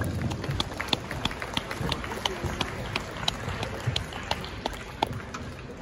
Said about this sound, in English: Folks, let's give all these young exhibitors a round of applause.